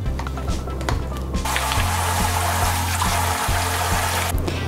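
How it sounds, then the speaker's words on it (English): Tap water runs steadily into a sink while hands are washed with soap in a home kitchen, a continuous close hiss and splash over a low hum, with small clatters and no talk. "Now it's time to wash your hands."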